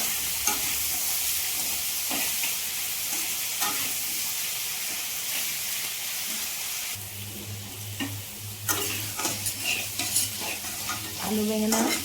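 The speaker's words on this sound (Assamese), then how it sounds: "আলু আৰু বেঙেনা মই নহৰু পেষ্টৰ লগত ভাজিছোঁ" Potato and eggplant pieces fry with garlic paste in a pan, a steady close sizzle under repeated scraping and stirring of a spatula, with a low hum underneath and sharper clatters toward the end.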